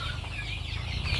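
A flock of chickens on a poultry farm clucks continuously, a dense, steady murmur of overlapping calls with no talking.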